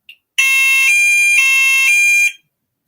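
A fire alarm loop sounder switched on blares a loud, steady electronic alarm tone for about two seconds, with a brief chirp just before it and silence around it.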